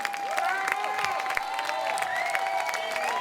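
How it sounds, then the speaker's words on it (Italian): An audience claps for Riccardo at an open-air band concert in Piazza Manzoni, Jesolo, a steady patter of applause with a sustained musical tone and sliding notes ringing over it. "Riccardo, prenditi i tuoi applausi perché te li meriti"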